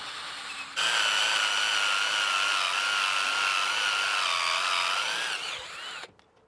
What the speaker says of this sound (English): So we're going to start drilling